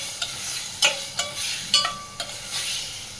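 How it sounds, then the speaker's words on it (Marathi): Prawns frying in oil in a pan with occasional stirring, a steady soft sizzle broken by several sharp scraping clinks at irregular intervals, close and moderately loud. "तेलामध्ये चांगली कोलंबी परतवून घेते"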